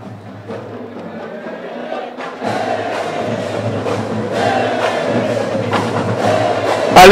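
A school marching band, the Bulls Marching Band of a private secondary school, plays along a street parade, a steady full-band sound with drums that grows louder over the clip, with a faint crowd around.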